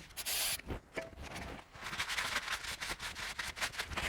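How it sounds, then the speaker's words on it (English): A rag rubs and wipes differential oil off the outside of a Toyota Land Cruiser swivel hub housing, producing repeated close, scratchy rubbing strokes in an irregular rhythm with no talking. "And then just wipe away any diff oil from outside the housing."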